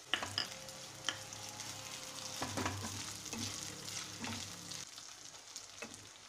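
Ginger garlic paste frying in hot oil for dal makhani, a continuous sizzle with scattered utensil scrapes and taps against the pan, fairly quiet and close, no talking.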